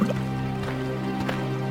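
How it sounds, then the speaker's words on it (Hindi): Water pouring and filling into clay pots (matkas) at a village riverbank, heard as a steady, continuous liquid trickle and drip with faint gurgling throughout, fairly close and unbroken, with no voices. "अपने अपने मटके में पानी भरकर"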